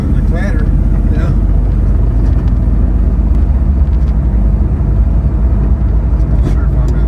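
A steady, loud low engine rumble fills the cabin of a moving car, with a light clattering texture running throughout and occasional faint speech over it.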